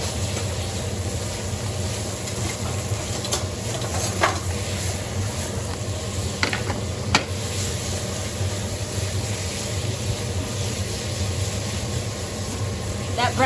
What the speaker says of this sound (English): We're gonna give them a little stir.